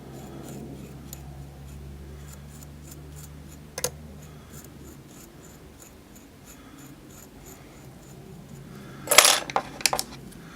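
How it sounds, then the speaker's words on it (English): Scissors snip the fuzzy cotton wick ends for a VapeFly Core RTA, with a couple of quick close metallic clicks and snips near the end following a faint tap earlier, over quiet room hum. "Cut off the fuzzy ends."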